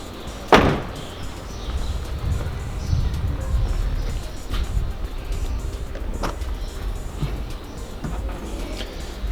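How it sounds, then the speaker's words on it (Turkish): A Mazda RX-8's rear door shuts with a sharp thud, followed later by the quieter closing of the front door, amid low engine-like background noise outdoors. "Yine kapanırken önce arka kapıyı, daha sonra ön kapıyı kapatıyoruz."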